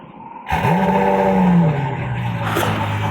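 Supercar engine suddenly roars to life and revs up in a rising, loud, close howl, then settles to a strong idle rumble with a brief second blip.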